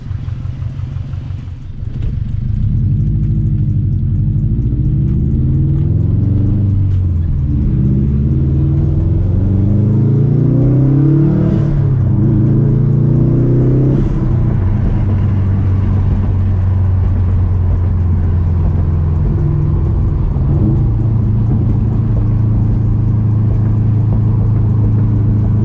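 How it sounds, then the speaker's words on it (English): A 2004 Subaru WRX STI in World Rally blue with gold wheels, its subtle exhaust giving a steady deep rumble while driving through the city, rising and falling with throttle, loud and continuous throughout. "This exhaust, very subtle, but definitely has a nice deep rumble to it."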